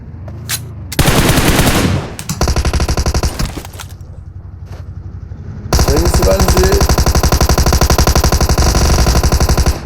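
Thompson submachine gun fire in the battle-royale game PUBG Mobile: loud sustained automatic bursts with rapid rhythmic shots, a short burst early, a pause with sparse single shots, then a long continuous burst to the end.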